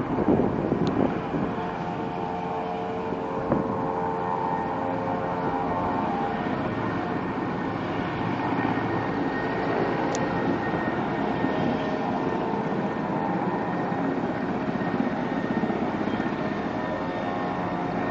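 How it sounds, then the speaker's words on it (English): Large Mi-8 helicopter landing, a steady loud rotor and turbine drone with sustained whine, continuous and fairly near, with wind rushing across the microphone and no talk. "And finally our helicopter arrives. There. That one landing right there."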